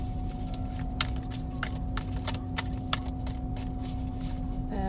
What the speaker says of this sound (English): I do like a stiff tarot card, although harder to shuffle.